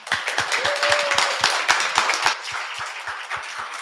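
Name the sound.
applause for a guest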